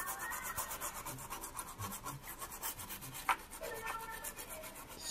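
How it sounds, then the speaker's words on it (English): An Amiga 500 Plus circuit board is scrubbed with a cleaning wipe and gel, giving a steady, close, continuous rubbing and rasping with rhythmic back-and-forth strokes and a faint click partway through. "Scrub and scrub and scrub."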